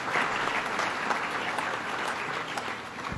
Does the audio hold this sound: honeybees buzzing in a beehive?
no